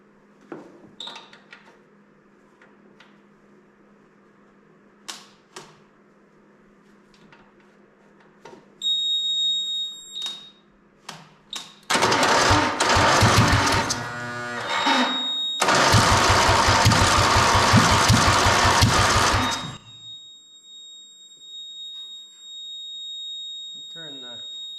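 An MTD drag racing lawn mower engine is cranked over in a couple of loud, rough bursts after scattered clicks, with a thin high squeal from a hooked-up jump pack running alongside.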